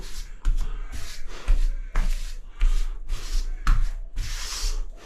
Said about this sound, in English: Wipe off the excess as you go.